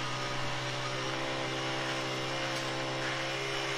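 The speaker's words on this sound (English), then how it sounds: "It's my turn to run the MBW Vibra-Screed. It's got a Honda motor on it" An MBW Vibra-Screed concrete screed with a Honda motor runs steadily nearby, a constant droning engine hum with a strong vibrating buzz and no break in the sound.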